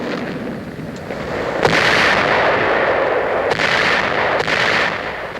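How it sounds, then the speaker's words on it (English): Naval artillery bombarding the southern coast of Lingayen Gulf in the Pacific War, a steady roaring rumble of distant gunfire with a few sharper bursts standing out, continuous and loud without any talk. "a 2-hour bombardment is concentrated on Lingayen Gulf's southern coast"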